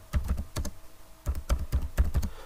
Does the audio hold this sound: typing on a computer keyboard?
yes